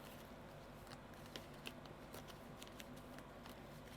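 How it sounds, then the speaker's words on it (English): A deck of playing cards being shuffled, quiet riffling and flicking patters scattered across a few seconds, faint and close, with no talking. "I'm just going to give these a shuffle because I've seen the first couple of cards now"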